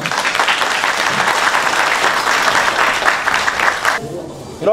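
Steady, loud audience applause fills the venue at a 2AW pro wrestling event in Urayasu, then cuts off abruptly into near quiet near the end.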